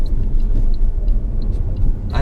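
Fiat Tipo with a 1.6 diesel engine cruising along the road, a steady low rumble of engine and tyre noise inside the cabin, continuous and fairly loud with no talk over it.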